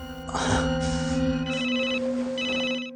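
A telephone rings in a scene from a Netflix action movie, with a loud electronic ringtone pulsing in repeated bursts over a sustained low musical drone and no voices.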